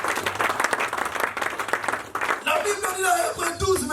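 A church congregation claps and cheers during a sermon: dense, continuous applause with shouts from the crowd, then voices rise over the fading clapping.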